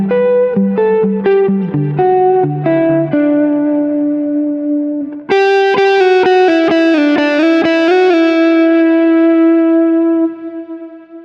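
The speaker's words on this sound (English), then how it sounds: "By positioning the Pure booster on one of the 4 stomps in front of the stack, I can now drive the stack with a higher signal level for more distortion" An electric guitar plays chords through an amp stack pushed into heavier distortion by a Kemper Profiler Pure Booster, loud and sustained, with a brighter, louder second phrase ringing out to the end.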